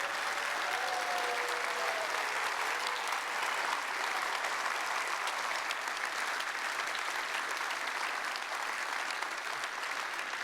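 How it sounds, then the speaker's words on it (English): A keynote audience at a community conference applauds, steady and sustained clapping from a large crowd filling the whole stretch at moderate volume, without any voices on top. "we will recognize you with some applause"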